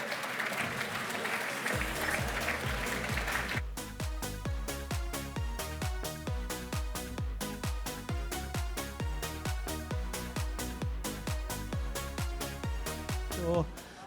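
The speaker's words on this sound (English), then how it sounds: "Give a big round of applause to all of our winners as they make their way back onto the stage" Applause rises from the audience at an apprenticeship awards ceremony as the winners return to the stage, then gives way to loud music with a steady pounding beat.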